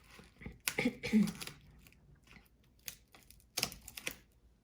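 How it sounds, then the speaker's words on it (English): A blade cuts through plastic while a pinnable dressform for a Smart Doll is being made: a few close, sharp crunching clicks in short bursts, separated by quiet gaps. "We're gonna cut right through the plastic."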